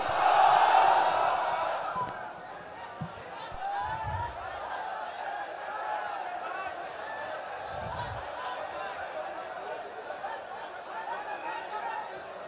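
A large outdoor rally crowd in Rangpur answers a Naraye Takbir call with a loud swelling roar that fades into a sustained murmur of voices.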